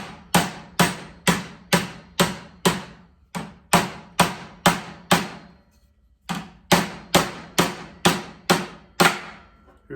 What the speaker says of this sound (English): I can work that around the edge too with the ball peen hammer and begin to move it